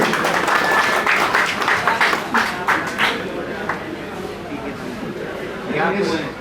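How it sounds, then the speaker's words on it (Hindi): Audience applause breaks out at an electronics dealer meet in Bharatpur as a lucky-draw gift is handed over. Dense clapping starts loud, then thins into scattered claps that fade and briefly swell again near the end, with voices mixed in. "जोरदार तालियां सर के लिए।"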